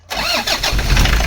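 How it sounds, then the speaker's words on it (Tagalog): A Toyota Hiace van's 2KD diesel engine starting: a brief crank that catches within a fraction of a second, then settles into a steady close, loud idle. "Engine start."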